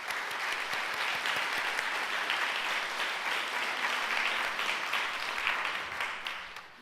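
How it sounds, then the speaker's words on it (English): A room of guests applauds the Knox law firm at a women business owners event in Erie, giving sustained, even clapping that fills the space and tapers off near the end. "So let's give them a round of applause."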